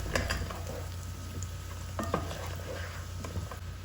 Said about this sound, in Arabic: حطيت سمنة مع شوية زيت، وبعدين أضفت البصل المفروم ناعم